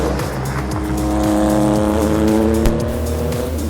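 An Acura ARX-05 prototype race car's engine in a racing video game, loud and continuous, climbing and dropping in pitch through repeated upshifts and downshifts, with no talk.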